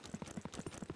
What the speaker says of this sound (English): Just heard a footstep.